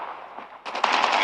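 Rapid automatic gunfire from the shooter game Call of Duty Mobile, heard as a dense, loud burst of closely spaced shots that starts abruptly partway through and continues to the end.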